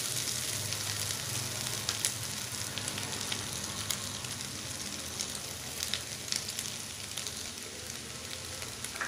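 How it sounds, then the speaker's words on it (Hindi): Boiled potatoes sizzle and fry steadily in a pan for a dry South Indian-style sabji, with occasional scraping clicks of stirring, close and moderately quiet, no talk. "फ्राई करूँ ताकि इसमें ये आलू में ब्राउनिश बन आ जाए"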